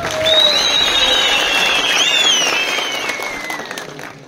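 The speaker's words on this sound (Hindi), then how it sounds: "आनंद शर्मा जी के लिए एक जोरदार तालियां लगाए।" A political rally crowd applauds, broad steady clapping with whistles and cheers rising over it, loud and sustained before easing off.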